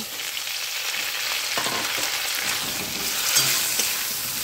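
Cauliflower frying in hot oil in a village-style kitchen, a steady close crackling sizzle with occasional stirring clicks and no voices.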